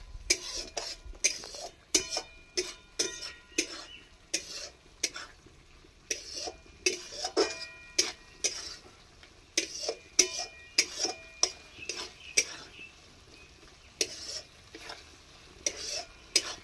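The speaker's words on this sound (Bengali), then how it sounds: "এটাও খানিকক্ষণ কষতে থাকবো" Spice paste for a Bengali potol (pointed gourd) dish being stir-fried in a pan: a steady run of scraping, clinking spatula strokes against metal with a faint sizzle underneath, close and rhythmic throughout.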